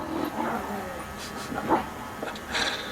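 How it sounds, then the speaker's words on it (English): Dogs playing, with short yips, whimpers and soft panting at close range, in brief bursts under a man's speech. "My dogs are having a ball."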